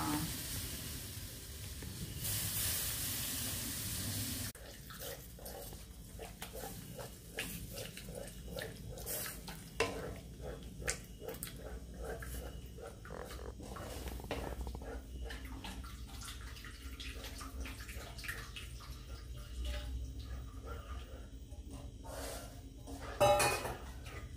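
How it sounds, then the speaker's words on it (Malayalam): Milk poured little by little into a pan while cream is stirred in a home kitchen at night, a steady wet splashing and scraping wash that carries on continuously, with a brighter hiss at the start and a small clatter near the end. "അപ്പൊ ഇനി കുറേശ്ശെ പാൽ ഒഴിച്ചു കൊടുത്തിട്ട് മിക്സ് ചെയ്യാനിട്ടാവും"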